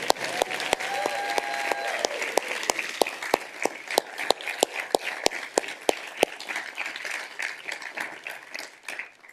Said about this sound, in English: We can clap there.